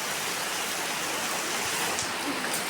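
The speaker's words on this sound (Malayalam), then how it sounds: "നല്ല മഴയാണ് കേട്ടോ" Heavy rain at night pours in a dense, steady hiss, close and continuous, with faint patters of drops on surfaces.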